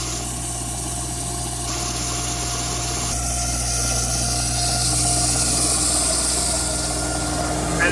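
Old mining machine engine from the Jade Mines running while its wheels roll along rails, a steady close hum and drone with a change in tone partway through, no talk.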